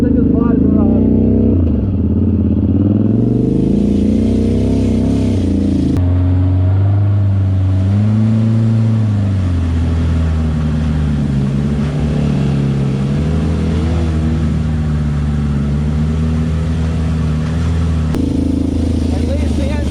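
A mini rock crawler's small engine runs continuously while crawling over obstacles, loud and close, its pitch rising and falling as the throttle changes, with clattering and a mid-clip shift in tone.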